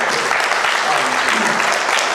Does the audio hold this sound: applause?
yes